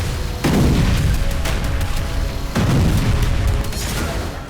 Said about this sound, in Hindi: बीते 24 दिनों से गाजा में बारूदी कोहराम जारी है।